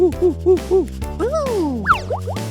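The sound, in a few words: monkey sound in a children's cartoon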